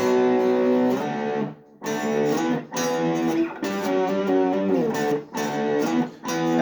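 Distorted electric guitar power chords from a riff strummed in short chunky bursts with brief gaps between them, loud and close, no voices.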